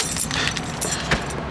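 Car keys jangle in short metallic bursts, several quick shakes close by inside a car with faint background noise.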